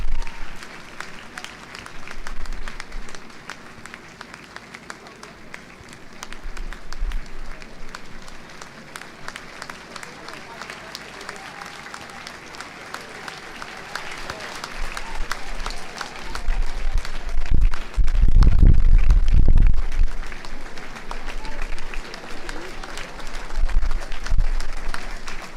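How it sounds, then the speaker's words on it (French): Audience at a celebration of the fashion house Pathe'O's 50th anniversary in Ouagadougou claps and cheers steadily, swelling to a louder burst of cheering near the end over a broad crowd roar. "Acclamation pour lui, s'il vous plaît."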